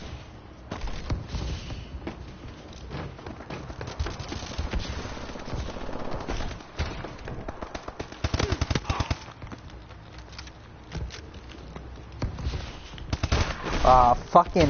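Video game gunfire in an online shooter, rapid bursts of automatic fire and scattered shots crackling at moderate volume under a player's occasional cursing.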